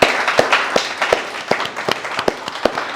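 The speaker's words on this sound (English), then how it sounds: "Big round of applause for Harshita." A small audience at a cloud-technology session clapping for a participant, with scattered, uneven individual claps at moderate volume rather than a dense roar.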